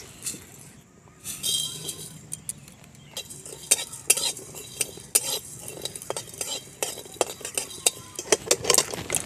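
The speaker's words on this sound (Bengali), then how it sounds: "আমি এখন কয়েকটা গোটা মশলা ভেজে নেব। জিরা, ধনে আর মরিচ।" Whole cumin, coriander and chili dry-roasting in a pan, with a spoon clinking and scraping repeatedly against the metal in quick, close strokes after a quiet start.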